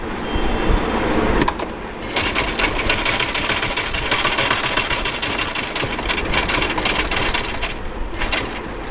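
A sewing machine stitching pant fabric runs in a steady, rapid mechanical whir close by, loud and continuous, with a brief pause near the start before resuming.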